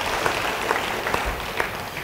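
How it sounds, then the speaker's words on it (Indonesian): A church congregation applauds during a sermon, a steady wash of clapping with a few sharper claps popping out at a moderate distance over about two seconds. "Beri tepuk tangan bagi dia."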